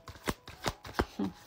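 Tarot cards shuffled and drawn during a love reading, with a few crisp, close flicks and slides of card stock at an uneven pace.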